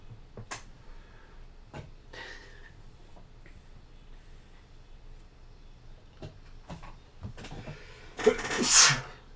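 A single sharp sneeze bursts out loudly near the end, following quiet tabletop sounds and faint movement during a board game session.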